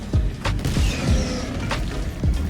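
Explosions in the video game The Finals, several heavy booming thuds landing at irregular intervals over a rumbling, crashing background.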